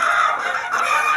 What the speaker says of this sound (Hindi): यहाँ एक और मुर्गी है मिस्री